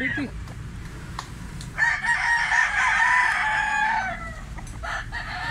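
A Pumpkin Sweater gamecock rooster crows one long, loud, close call over a low, steady background hum, with faint murmurs of people nearby.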